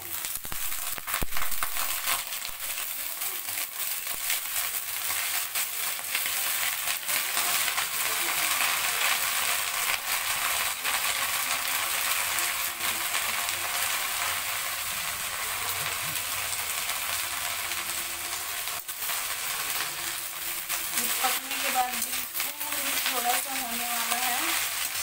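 Garlic and onion fry in a pan with drumstick (munga) leaves, giving a steady, close sizzle with light scraping and stirring throughout. A few faint clinks of the utensil sound near the end.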